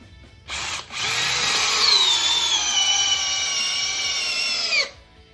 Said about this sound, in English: another 10-inch Timberlock screw. This is 4x4 pressure treated lumber. We're going to see if we can sink it this time